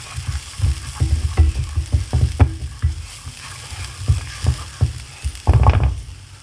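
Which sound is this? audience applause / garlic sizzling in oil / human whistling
garlic sizzling in oil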